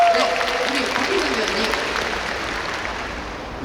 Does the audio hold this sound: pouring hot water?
no